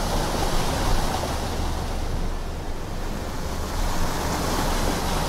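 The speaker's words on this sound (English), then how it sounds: "you can see waves flapping against stuff" Water in the Outer Wilds game washes continuously against objects, a dense, steady surf-like roar with gentle swells in loudness and no voices.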